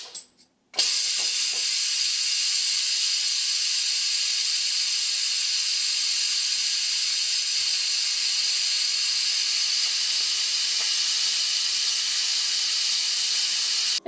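A Crock-Pot Express multi-cooker vents steam in a quick pressure release, a loud, constant, close hiss that starts abruptly after a brief mechanical click and holds unbroken almost to the end.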